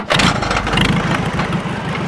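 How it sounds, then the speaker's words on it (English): A Super A tractor engine is started by hand crank on a farm sawmill. It catches and runs with a loud, rapid chugging that settles into a steady, close rumble. "that's hand cranking a Super A tractor right there"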